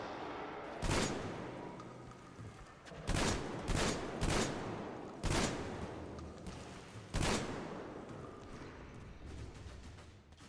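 Gunshots in Metro Exodus, about seven loud single cracks spaced irregularly, some in quick pairs, each ringing out over a low background rumble.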